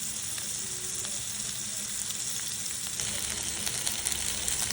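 Fish cleaned and frying in a pan, a steady close hiss of sizzling oil running throughout with faint crackles.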